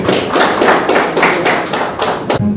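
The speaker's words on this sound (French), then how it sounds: "Applaudissez, s'il vous plaît." Applause from an audience at a formal gathering with a deputy and beauty pageant winners, a dense, loud wash of many hands clapping that carries steadily before tapering off at the end.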